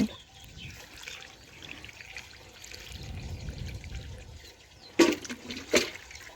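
Dirty rinse water drains through the holes of a sieve after rice is washed. A faint, steady trickle runs throughout, followed by two brief, louder splashing pours near the end.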